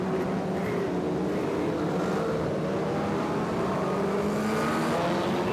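Race cars roaring past the start-finish line at a Speedweek oval race, a steady loud engine drone with shifting pitch and no break, cars passing close, no talking.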